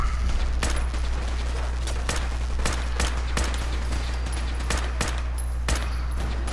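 A combat rifle in the video game Fallout 4 fires nine or ten shots at a steady, moderately paced rhythm over a low constant hum, with no one speaking.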